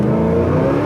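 A 1965 Chevrolet El Camino's engine pulls hard under acceleration, a loud, close, continuous rising growl in a brief burst.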